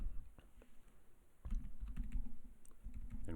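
Typing on a computer keyboard in a quiet room during a programming session, a steady patter of soft clicks running throughout.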